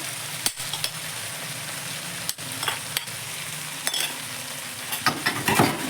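Egg bhurji stir-fried in a pan for egg fried rice: a continuous soft sizzle broken by sharp scrapes and clatters of a spatula against the pan, no talking.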